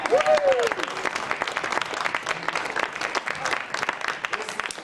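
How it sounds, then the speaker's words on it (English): Audience applause greets a first-time stand-up comedian at a comedy show, a steady wash of clapping from a crowd that holds throughout, with a brief whistle or cheer near the start. "Let's have a nice round of applause for Dan Bushman!"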